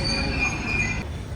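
A London Underground tube train's wheels squeal in a loud, steady, high-pitched screech over a rolling rumble, then the squeal cuts off abruptly near the end.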